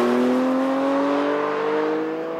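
A 2020 Porsche Boxster GTS engine revs steadily upward, its howling tone rising smoothly and loudly for a couple of seconds with no voices over it.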